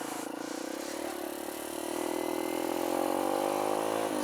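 A Kawasaki KLX140 dirt bike engine runs on a test ride with a freshly installed carburetor, a steady buzzing drone that rises gradually in pitch and grows slightly louder, heard close and alone.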